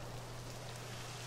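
Steady rain falls in Dragon Quest XI, a dense, even hiss with a low hum beneath it and no voices.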